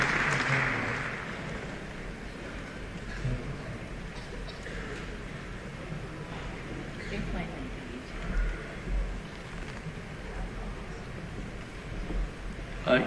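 Steady, loud applause from an audience welcoming a speaker at a public gathering, a dense broadband patter that holds for about thirteen seconds, with voices talking and murmuring underneath.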